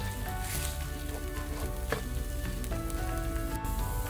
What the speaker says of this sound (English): continue frying the ginger garlic paste till you don't smell the raw smell anymore